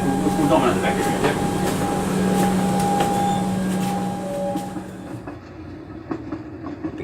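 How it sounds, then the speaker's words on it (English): Rumbling train running along rails with rhythmic clacking and a humming tone, loud and close, easing toward the end; a voice speaks briefly underneath. "and then we'll board the train"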